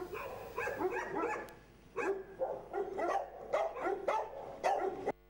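Several dogs at an animal shelter bark repeatedly in irregular overlapping bursts, moderately close, with brief pauses between volleys.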